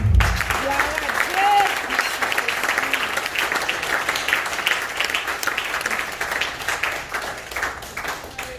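A church congregation bursts into sustained applause during a sermon, a broad crowd of clapping hands with a few voices and cheers mixed in, holding steady at moderate loudness.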